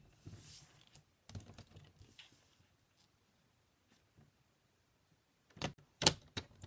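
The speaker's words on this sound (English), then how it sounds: "I'm going to bring my paper trimmer back in." A paper trimmer slices paper for card-making, giving short scraping, sliding cuts and quiet clunks in separate bursts, with a louder cluster of sharp clicks and snaps near the end. No one talks.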